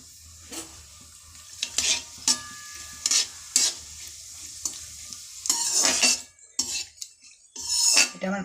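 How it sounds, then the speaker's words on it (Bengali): Bay leaf, dried chilli and whole cumin fry in mustard oil, giving a steady sizzle punctuated by repeated sharp scrapes and clinks of a metal spoon stirring in the pan, with no talking. "সর্ষের তেল দিলাম, তেজপাতা দিয়ে দিলাম, শুকনো লঙ্কা একটা দিয়ে দিলাম"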